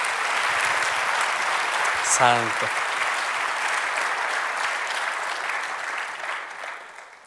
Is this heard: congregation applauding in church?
yes